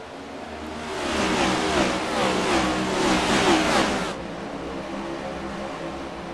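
Race cars in the iRacing video game at Dover accelerate on a green-flag restart, a loud blended roar of engines that swells for about three seconds before dropping away to a steady lower drone.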